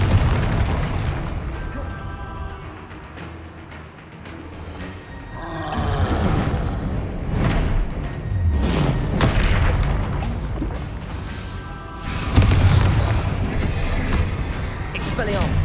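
Confringo blasting spell explosions in Hogwarts Legacy crash out as heavy booming bursts, mixed with game effects and a talking voice, and a loud blast stands out near the end.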